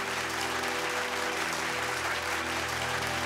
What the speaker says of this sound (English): Welcome them with a round of applause.